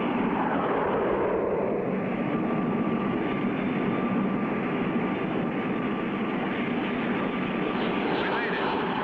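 Steady, loud propeller airplane drone as the aircraft flies toward a landing field, a constant roaring engine hum with a faint tonal whine throughout, with someone speaking over it.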